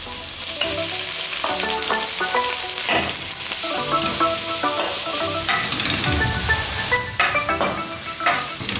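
Half-boiled minced meat (keema) sizzles steadily in desi ghee with ginger garlic paste, a close, loud frying hiss over the whole stretch, with faint stirring clinks.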